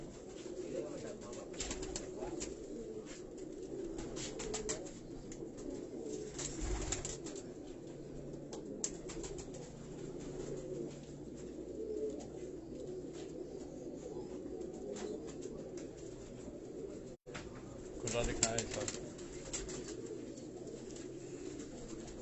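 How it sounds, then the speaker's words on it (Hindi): Teddy breed pigeons coo in a loft, low rolling calls rising and falling continuously at moderate distance, with occasional rustles and a brief wing flap. "ये तमाम जितने भी कबूतर आप दोस्तों हाजी साहब के आप देख रहे हैं, ये टेडी ब्रीड के ये कबूतर हैं।"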